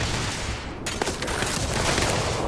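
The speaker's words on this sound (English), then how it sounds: "They're shooting at me." Enemy gunfire in a video game, a dense loud burst of rapid shots and impacts filling the whole stretch with a sharp crack near the one-second mark, no voices.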